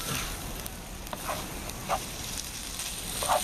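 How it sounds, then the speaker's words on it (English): Food frying in a pan on a stove, a steady low sizzle with a few brief pops and spits, fairly quiet and without talk. "Now we're just going to fry this up."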